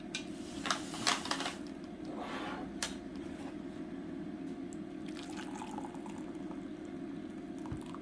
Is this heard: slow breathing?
no